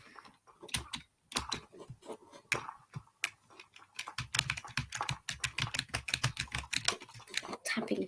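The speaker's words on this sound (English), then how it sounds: "Tapping keys." Computer keyboard keys are tapped in close, crisp clicks, first in scattered bursts and then in a quicker, denser run of typing, with no voices.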